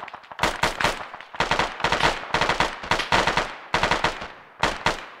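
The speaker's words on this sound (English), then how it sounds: "Okay, we have machine gunners!" Machine gun fire in the video game Arma: loud, close bursts of rapid automatic shots in repeated strings with short pauses between them, without talk.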